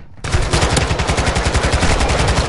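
Rapid automatic gunfire rattles in a PS4 shooter game, a loud, close, steady burst of evenly spaced shots lasting a couple of seconds after a brief quiet start.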